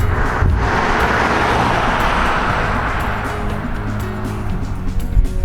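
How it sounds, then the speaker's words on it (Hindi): A car approaches along a road, a broad whooshing roar that builds and rises loud and near for several seconds, then eases while a faint engine hum continues. "हाँ एक गाड़ी आ रही है"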